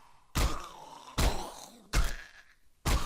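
Four heavy, booming impacts spaced roughly evenly apart, each a deep thud with a crunching tail, a sledgehammer melee hit in a Fallout game mod; no talking.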